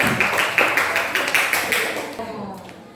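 Schoolchildren in a Javanese script lesson clap together in class, a quick run of distinct hand claps near and fairly loud, tailing off as a voice speaks.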